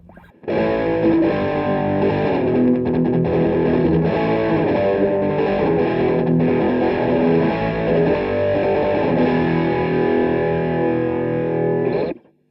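A sustained, heavily distorted electric guitar tone through a digital Boss high-gain pedal plugin rings out for about twelve seconds, thick and saturated with high-gain crunch, then cuts off abruptly.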